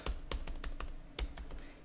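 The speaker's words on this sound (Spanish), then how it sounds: "sigo presionando el teclado" Keys on a computer keyboard are pressed in quick irregular taps, about a dozen crisp clicks close by, with no speech over them.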